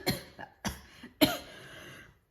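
Coughing from someone who swallowed the wrong way: a short series of close, sharp coughs in separate bursts, about four over two seconds, with quiet gaps between them.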